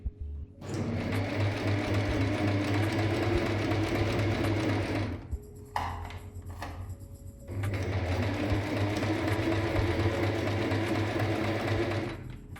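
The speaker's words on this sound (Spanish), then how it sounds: "vamos a coser con puntada recta lo más cerquita del borde posible" Sewing machine running a straight stitch close to the edge of a vertical fabric pencil case, two long continuous whirring runs separated by a brief pause with a few light clicks.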